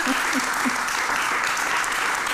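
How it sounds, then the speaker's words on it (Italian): Steady audience applause fills the room, dense and continuous clapping at a constant loudness throughout. "Questo è applauso"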